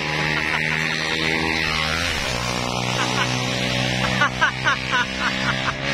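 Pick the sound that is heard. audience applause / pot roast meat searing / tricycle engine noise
tricycle engine noise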